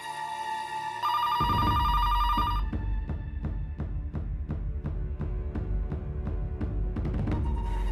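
A telephone rings loudly in a tense moment, a tonal ringtone that gives way to a steady, rhythmic pulsing pattern repeating close by, with no talk.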